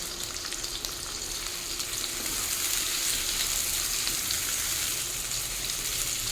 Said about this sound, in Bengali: মিডিয়াম টু লো ফ্লেমে রেখে ভাজবো